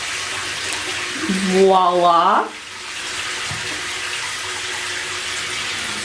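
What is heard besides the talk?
tap water running while washing feet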